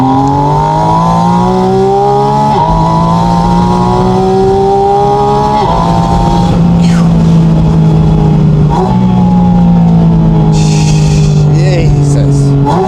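A 2025 Porsche Spyder RS accelerates hard from the cabin, its engine climbing through several rising sweeps of pitch with brief dips at gear changes, loud and continuous, with a short burst of higher noise near the end.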